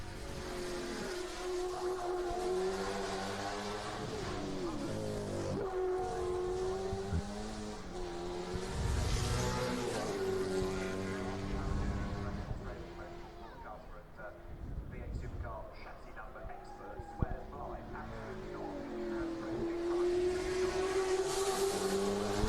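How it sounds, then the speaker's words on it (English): Holden Racing Team Commodore race car engine roaring and rising in pitch through gear changes, playing at moderate level with continuous voices talking over it. "a Holden Racing Team Commodore from a few years ago"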